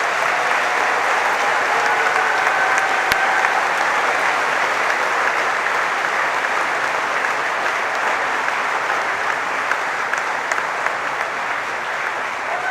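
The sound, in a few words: graduation audience applause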